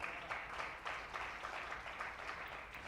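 A church congregation gives sustained applause during a sermon, a faint, steady patter of many hands clapping heard from a distance.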